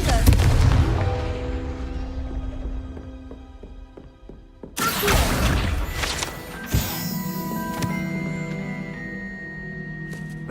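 A Confringo fire spell blast in Hogwarts Legacy: a sudden loud burst near the middle that booms and crackles, followed by a second impact and lingering sustained magical tones over a rumbling game soundscape.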